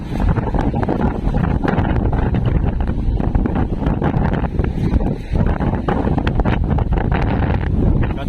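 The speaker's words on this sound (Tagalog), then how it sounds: "napakalakas po ng hangin" Strong coastal wind buffets the microphone in a steady loud roar with gusty rumbling, while waves and boat activity sit underneath and nobody speaks.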